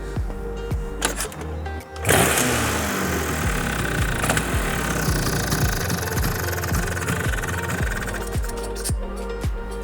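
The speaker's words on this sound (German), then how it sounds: "Also die Vespa ist angesprungen," A Vespa scooter engine, just fitted with a new fast-flow fuel tap, catches after a couple of cranks and then runs with a loud, steady, rapid idle.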